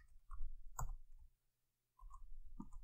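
A computer mouse clicks a few times, sharp and close, separated by quiet stretches.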